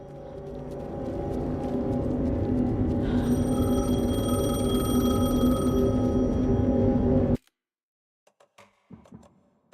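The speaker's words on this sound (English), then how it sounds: "Let's go answer the phone." An old telephone in the video game Alan Wake II rings steadily, a loud continuous bell that sounds for about seven seconds before cutting off abruptly, leaving near silence with a few faint clicks.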